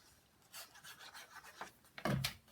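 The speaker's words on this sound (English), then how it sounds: "So I'm just going to burnish that down." Bone folder or tool burnishing paper down over the hinge of an 8 x 6 hardback memory book, a few short dry rubbing strokes, close and fairly quiet, the last one firmest.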